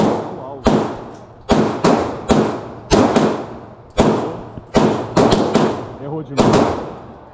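A real gun is fired at a shooting range in the USA: about a dozen loud, sharp shots come in an irregular rhythm, some close together, each with a short echoing tail.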